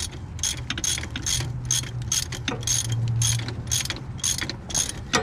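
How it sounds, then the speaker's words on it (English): A hand ratchet clicks in a quick, steady rhythm as it works loose engine mount bolts on a Jeep Renegade, the close metallic pawl ticks heard alone with a faint low hum beneath. "You see how easy I am pulling that with my ratchet?"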